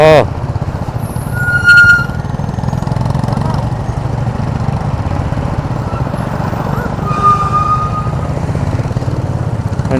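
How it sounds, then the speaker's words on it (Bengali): A motorcycle riding through hill country, its engine droning steadily and close throughout, with a brief horn-like tone and some wind noise over the rumble. "নিজে ড্রাইভ করে যাচ্ছে আমার বাইক পাহাড়ে।"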